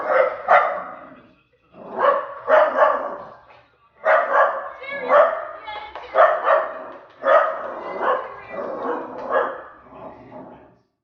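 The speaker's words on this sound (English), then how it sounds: "So, do you bark at dogs or just people walking by?" A dog barks close by in repeated bursts of two or three barks, some higher and yelping, with short pauses between groups, loud and clear with nothing else around.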